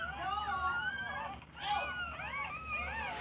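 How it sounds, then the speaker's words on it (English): Newborn pit bull puppies, a litter of eight, squeaking and whimpering in overlapping high-pitched cries, close and continuous with a brief dip midway. "8 little pit bull puppies born on yesterday"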